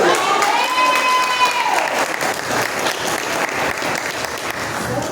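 A church congregation bursts into loud, sustained applause with cheering and a shouted whoop, dense clapping filling the room throughout.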